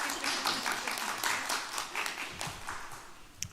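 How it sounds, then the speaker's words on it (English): A room full of people at a mayor's news conference claps in a steady round of applause that swells, then gradually thins toward the end, with a sharp single clap near the close. "Can we have a little round of applause for them?"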